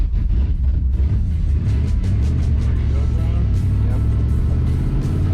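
A third-generation car engine with an injector fault runs rough and uneven at low revs, a loud steady rumble with a lumpy, irregular beat, heard close throughout.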